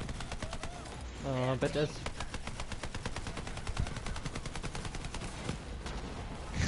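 Automatic weapons fire rapidly in the video game Borderlands 3, a steady stream of fast gunshots with bullets ricocheting, while someone talks over it briefly.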